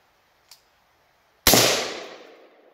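AR rifle fired at a TV set, heard as one faint early crack, then a single loud sharp blast about a second later that decays slowly over the following second.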